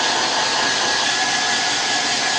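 A hair dryer blows hair with a steady, loud, close-up roar that holds unbroken from start to finish.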